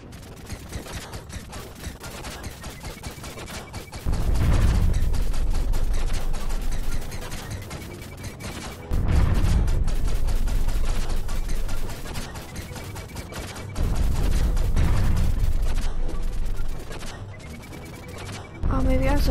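Turret fire aimed at a golden flying enemy in Owlboy: rapid rattling gunfire runs throughout, swelling every few seconds into heavy, booming bursts of several seconds each, loud and close.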